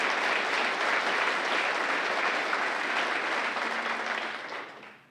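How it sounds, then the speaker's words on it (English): Steady audience applause at a Founders' Day 2015 luncheon, a broad even clatter of many hands lasting about five seconds before fading out at the end. "I think we should give them all a round of applause one more time."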